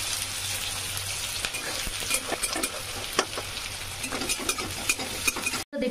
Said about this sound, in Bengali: দেখুন এই যে কাঁচকলা চিপসের আওয়াজ